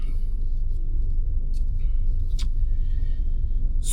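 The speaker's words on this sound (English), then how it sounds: "Now I'm gonna go forward and I'm gonna park in between these two cars" Car rolls forward at low speed into a parking space between two parked cars, a steady low rumble throughout with a few faint clicks and ticks above it.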